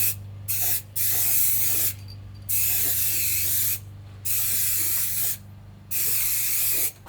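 Spray paint hisses from an aerosol can applying a first coat, four long bursts of roughly a second each, separated by short pauses, close and fairly loud.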